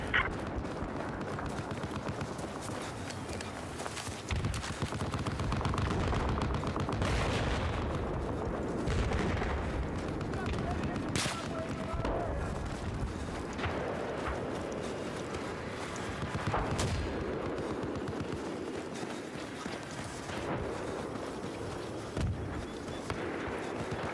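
Gunfire from an enemy machine gun in a Battlefield-style war video game, with bursts and booms throughout over a dense, loud battle background, without distinct isolated rhythm.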